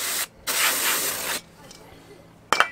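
Brake cleaner sprays onto the front brakes of a VW MK6 Jetta SportWagen during a brake job. A close, hissing burst lasts about a second, and a much shorter spurt follows after a pause.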